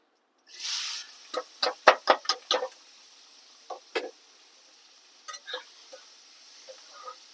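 Chopped onions drop into a hot pan with a brief sizzling rush, then a quick run of sharp spoon scrapes and taps as they are stirred, slowing to a few scattered strokes.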